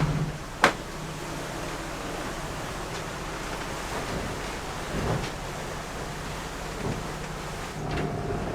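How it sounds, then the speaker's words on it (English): Heavy rain pours on a sailing boat at sea during a passage from Tonga to Fiji, a steady dense hiss with a sharp knock early on and low rumbles of wind and water underneath. "Absolutely pissing the rain."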